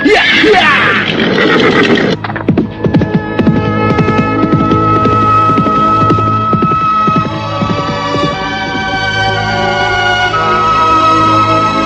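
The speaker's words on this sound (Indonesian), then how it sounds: "kuda yang mereka tunggangi segera meluncur dari puncak bukit" A horse lets out a loud, shrill whinny, followed by a sustained throbbing hum and rhythmic clopping.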